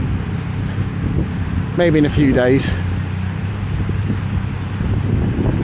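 Steady wind rushing across the microphone outdoors at Patong Beach, Thailand, in the early morning, a constant breezy roar with a short spoken phrase partway through.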